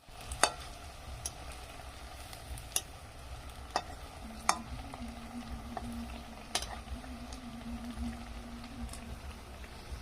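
Soybean chunks and potato frying in a wok for a Bengali soya curry, with a steady low sizzle broken by sharp clicks and scrapes of stirring scattered through.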